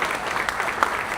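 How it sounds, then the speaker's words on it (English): Guests at a wedding reception break into a short, dense round of applause, many hands clapping at once in a steady wash of sound with a few sharper claps standing out. "Yeah, a round of applause, people."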